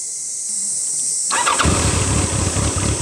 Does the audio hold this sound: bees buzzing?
no